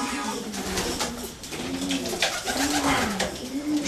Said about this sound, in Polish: w tym gołębniku czekaliśmy na około 30 gołębi